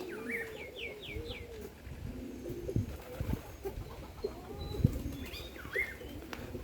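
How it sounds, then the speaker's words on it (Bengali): Pigeons, including Giribaz and Bombay breeds, coo softly from their coops, with low repeated coos mixed with faint chirps and other bird calls in a quiet yard. "যার যার খোপে যে কবুতর ডাকাডাকি করে"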